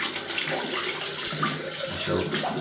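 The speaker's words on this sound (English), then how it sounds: "I rinse the soap out." Tap water runs steadily, rinsing shaving soap off hands at a sink, a close, continuous splashing hiss with no talk.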